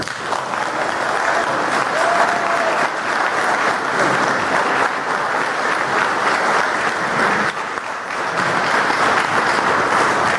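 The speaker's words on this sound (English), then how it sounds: "So please give us a warm applause for our Member of Parliament, Pierre Poilievere." An audience at a Canadian political event applauds a Member of Parliament, with dense, sustained clapping from a sizable crowd. The applause stays loud and continuous, with a brief dip before it swells again.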